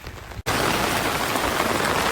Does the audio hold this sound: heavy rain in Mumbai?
yes